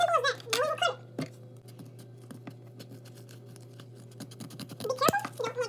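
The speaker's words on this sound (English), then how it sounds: "Now we will cut it." Scissors snip out a small DIY tech deck shape, giving a string of quiet, close scratchy cuts with faint speech at the start and end.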